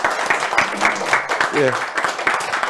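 An audience claps after a university lecture in a hall, a dense round of applause that carries through the clip while someone speaks over it.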